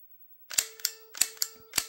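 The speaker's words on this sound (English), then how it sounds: "you're shooting the cans across" Electronic shots from an NES Zapper light gun firing at cans in a retro Nintendo video game, five sharp bursts at an uneven rhythm over a steady tone, loud and close with no talking.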